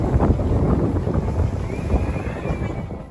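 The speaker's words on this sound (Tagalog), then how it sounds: "Mahangin talaga siya." Strong wind buffets the microphone on the pier at Southend-on-Sea, a heavy, gusty low roar that rumbles continuously and close throughout, with faint background sounds beneath.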